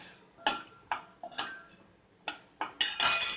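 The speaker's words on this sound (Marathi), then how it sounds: "आणि ढवळून घेते" A spoon stirs a pot of Malvani-style black pea sambhar, giving a series of separate clinks and scrapes at an uneven pace, close and fairly quiet, with no talking.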